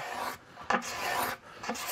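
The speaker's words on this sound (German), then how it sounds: "die Ziehklinge hat eine schabende Wirkung" A steel card scraper draws across a wooden surface in a chest-making workshop, giving two broad rasping strokes separated by brief pauses, close and fairly loud with no talk.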